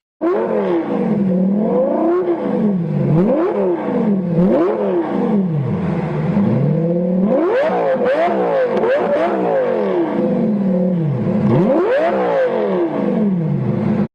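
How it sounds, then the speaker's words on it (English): A loud, straight-piped Lamborghini Gallardo Performante exhaust revs repeatedly, pitch rising and falling in rapid blips, then a harsher, longer rev, roaring and close. "This Lamborghini exhaust sounds straight-piped."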